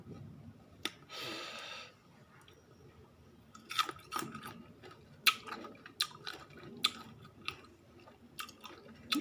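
Close, wet chewing and crisp bites of mango, a run of irregular crunchy snaps and mouth clicks spaced a second or so apart, with a brief soft rustle near the start and no talk.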